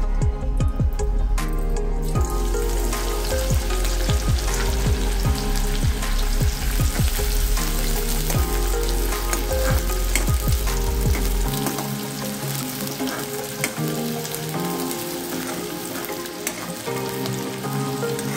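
Onion frying in half a cup of hot oil in a kadai, a loud continuous crackling sizzle with spattering pops that settles to a steadier hiss later, heard alone without talk.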